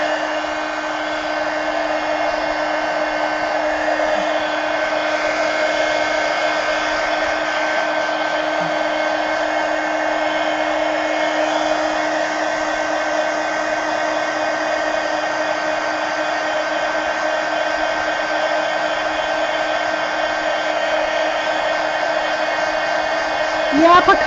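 A hair dryer blows steadily at close range while drying a mixed-media collage decoration on a pumpkin, a continuous whirring roar with a faint whine that runs unbroken for the whole stretch.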